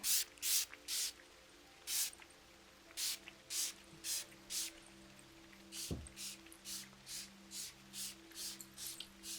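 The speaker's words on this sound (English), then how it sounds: "along with this spray" Quick puffs of a spray bottle misting, fired in short rhythmic bursts with pauses between, close and fairly quiet, plus one soft thud midway.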